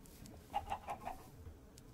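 A Minecraft chicken gives a quick series of four soft clucks, faint and close together, over quiet background.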